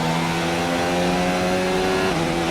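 A Formula 1 car engine in a racing game at the Baku street circuit, revving hard at a steady high pitch with a smooth shift down near the end, loud and close, no voices.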